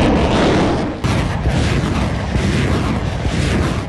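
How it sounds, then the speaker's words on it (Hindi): BM-21 Grad multiple rocket launcher fire and explosions on a battlefield, a loud, dense rumbling roar with a sharp break after the first second, then continuing rolling booms and blasts. "BM-21 ग्रैड MLRS से ताबड़तोड़ बरसाए रॉकेट से यूक्रेनी सैन्य ठिकाने धुआं धुआं हो गए"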